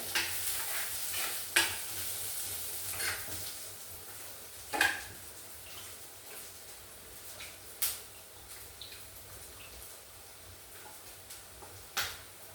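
Ingredients sautéing in a pan for sardine chili curry, a quiet low sizzle broken by sharp spatula knocks and scrapes at irregular intervals, close with no talk.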